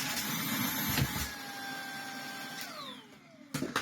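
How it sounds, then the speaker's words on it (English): A vacuum cleaner whines steadily while vacuuming off the filter of a Dyson DA001 vacuum, then its motor pitch drops as it winds down, with a couple of bumps at the end. "So we'll give it a customary vacuum off."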